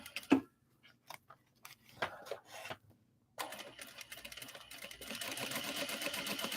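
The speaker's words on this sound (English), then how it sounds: "So we're going to actually go back in again and just throw another stitch line here." A sewing machine runs a reinforcing stitch line along the corner of a clutch wallet made from obi and kimono fabric. Scattered handling taps and rustles come first, then a steady, close machine whir for the last seconds.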